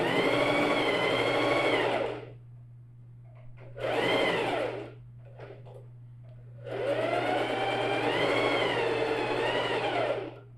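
A sewing machine sews a backpack in two long bursts of motor whine with a short backstitch burst between, each run rising and falling in pitch, separated by near-silent pauses with a low steady hum underneath.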